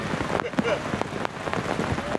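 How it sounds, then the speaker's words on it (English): Rain falls outdoors at a public speaking gathering, a steady patter on surfaces with scattered louder drops, while people talk nearby. "the rain can't stop play"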